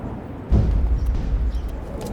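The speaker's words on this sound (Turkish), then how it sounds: "Bomba sesleri zaten her gün böyle oluyor." A deep, rumbling boom from a distant bomb explosion near the Turkey–Iraq border, rolling low and sustained for a couple of seconds over faint outdoor background noise.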